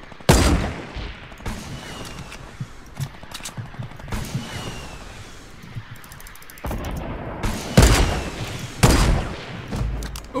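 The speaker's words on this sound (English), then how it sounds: "Oh, that's a minigun." Gunfire in a video game, with a minigun firing near a factory: loud bursts of shots and booms come in several clusters over continuous battle noise, with no talk.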